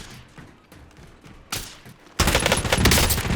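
Gunfire in a shooting video game starts as sparse muffled shots, then turns into a loud, sustained burst of rapid automatic fire that dominates the end.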